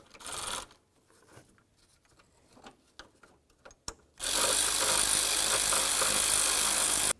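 Radiator mounting bolts on a 2000-2005 Buick LeSabre are snugged with a few faint ratchet clicks, then a loud, continuous power-tool buzz takes over for the last three seconds, with no voices.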